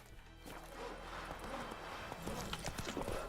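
Roach the horse's hooves clip-clop steadily along in The Witcher 3, a continuous rhythmic patter at moderate level over a busy ambient game soundscape.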